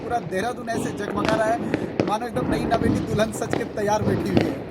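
Diwali firecrackers burst around Dehradun, with several sharp pops and crackles scattered through a steady din of celebration while someone talks over them.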